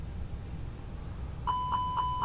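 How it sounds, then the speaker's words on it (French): An engine fire warning sounds in a Fenix A320 flight simulator cockpit: after a quiet hum, a sharp, bright repeating chime starts and pulses rapidly four times. "Alarme incendie moteur numéro 2 sur les cônes inférieurs avec la procédure à effectuer."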